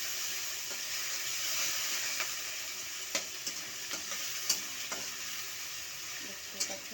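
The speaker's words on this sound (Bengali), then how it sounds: "দেখতে পাচ্ছেন নাড়াচাড়া করছি।" Ginger, garlic and green chilli paste fries with a steady hissing sizzle while a utensil stirs it, giving occasional sharp clicks and taps against the pan.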